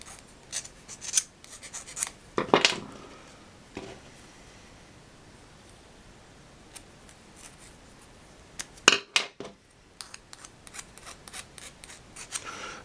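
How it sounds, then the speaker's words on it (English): A needle file rasps around the edges of plastic pipe for a clunk tank, making quiet, intermittent scratchy bursts separated by pauses, with no talking. "Needle file, good twist around, and a file around the edges like so."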